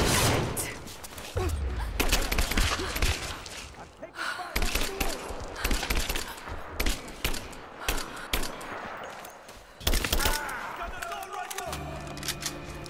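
Assault rifle gunfire in Rise of the Tomb Raider, heard as repeated loud bursts of shots with short pauses between them, along with in-game voices and other battle noise.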